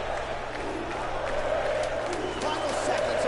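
A crowd applauds and cheers at a fight night in the UFC 3 video game. The roar is steady and fills the whole stretch without letup.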